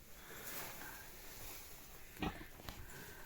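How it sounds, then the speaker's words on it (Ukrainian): Pigs in a warm, clean farm barn, with low steady barn noise and a couple of short grunting or snuffling bursts standing out near the end. "Отакі свинюшки."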